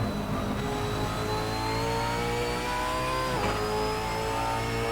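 Brabham BT62 hypercar racing at Laguna Seca in Assetto Corsa, its engine revving loud and steady with a rising whine that dips briefly at a gear change, then climbs again.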